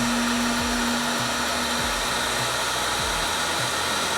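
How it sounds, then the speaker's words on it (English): A heat gun blows steadily and loudly to shrink heat-shrink tubing over a soldered wire, a constant broadband airy roar with a low hum that runs unbroken from start to finish, close to the listener and without speech. "So what we'll do is I'll try to heat shrink the top."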